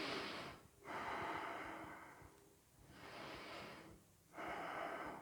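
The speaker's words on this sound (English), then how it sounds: "So big breaths." Slow, deep breathing during a yoga class, three long airy inhale-exhale cycles with brief quiet gaps between them, close and fairly soft, with no talking.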